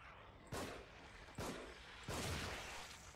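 Three sharp, loud video game gunshots in The Evil Within ring out at uneven intervals, each with a short echoing tail.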